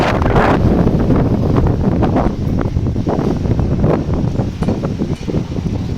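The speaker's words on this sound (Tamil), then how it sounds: "காற்று ரொம்ப ஹெவியாக இருக்குது" Strong wind, with lightning and rain approaching, roars and buffets close to the microphone in uneven, heavy gusts throughout, with no speech.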